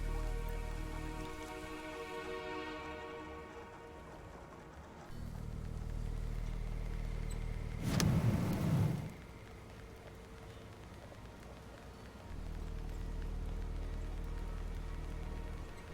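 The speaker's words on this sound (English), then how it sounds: "And it is raining hardcore." Steady rain pours down in a survival city-builder video game, a continuous hiss of falling water with a brief louder gust of noise midway and a low rumble underneath.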